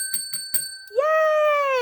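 Three quick metallic bell dings ring in a row, then a single brighter bell chime that sustains and slowly fades.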